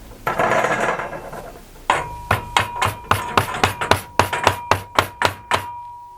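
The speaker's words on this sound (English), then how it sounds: "I'm going to be using this corner chisel just to tidy the corners up there." A 10mm corner chisel is struck repeatedly with a mallet while squaring up the corners of a wooden recess: about a dozen sharp, ringing knocks in a fast, uneven rhythm, close and loud, after a brief rustle.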